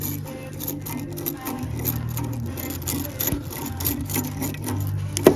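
Worn crankshaft bearing turning in a torn-down Polaris RMK 550 snowmobile engine, a steady rough grinding and scraping whir with faint ticks, close and moderately loud, no talk.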